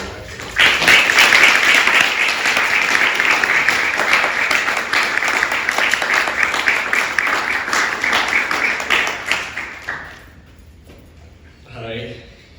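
Audience applause welcoming Dean Bradford at a literary reading and residency launch, a dense burst of many hands clapping for about ten seconds before fading, followed by a brief voice.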